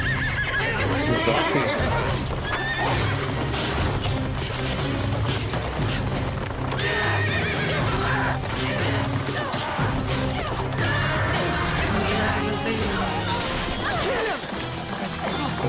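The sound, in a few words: horses neighing in a TV series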